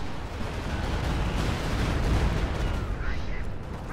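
Bursts of artillery and gunfire from an ISU-152 assault gun and a diving Stuka attack in a WWII strategy video game, with loud, dense explosive rumbles rolling continuously throughout.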